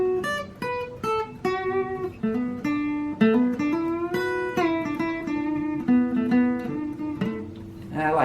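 Guitar licks from a song, played back to back as one phrase: clear plucked single notes and short slides in a bright, ringing melodic run, close and alone, without talk.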